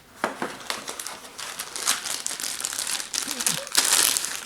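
Cardboard and plastic packaging of a Braun Beard Trimmer 7 BT7320 crinkles and rustles close up during unboxing, a steady stream of crackling handling noises with brief louder tears.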